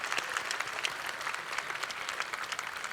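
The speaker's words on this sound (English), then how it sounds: "Let's give them a round of applause." Steady applause from a banquet audience at a chamber of commerce dinner fills the room, a dense patter of many hands clapping at moderate distance with no voices on top.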